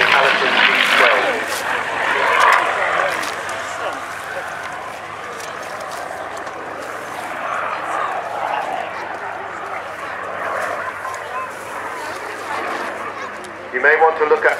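Steady drone of a P-40 Kittyhawk's engine in flight at an airshow, heard at a distance across the whole span, with a commentator talking over it throughout.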